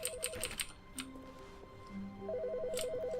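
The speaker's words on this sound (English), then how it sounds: "Wait, there's a telephone going off." An office telephone in The Stanley Parable video game rings with a warbling electronic trill in two bursts, at the start and again near the end, with faint clicks in between.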